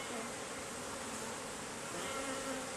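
Honeybees droning steadily around a hive, a soft, even, continuous buzz with faint overlapping tones and no voices.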